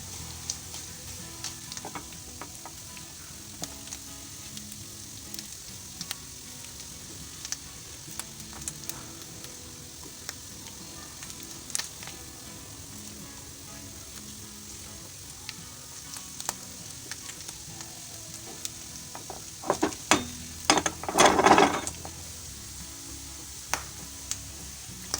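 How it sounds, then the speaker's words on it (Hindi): Potatoes frying in hot oil, a continuous sizzle with stirring, swelling into a louder crackling burst near the end, close up with no talking. "ये आलू फ्राई हो गए, अब इसे मैं निकाल लूँगी।"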